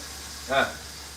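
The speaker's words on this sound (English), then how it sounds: "What a sizzle. And it's a sizzling." A turkey roasting in the oven gives a brief burst of sizzling hiss that rises and fades over a quiet background hum.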